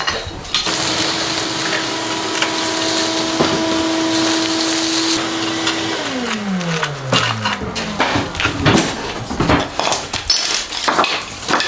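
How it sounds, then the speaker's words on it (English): A loud, steady vacuum cleaner roar fills the space with a constant whine, its pitch dropping partway through as clatter and knocks join in, while cleaning out a linear shower drain. "can we get the vacuum going in here?"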